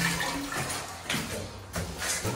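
A strong water spray from a toilet bidet washer in a Sri Lanka restroom hisses steadily and loudly for the whole stretch, with brief surges in the rush and no voices over it.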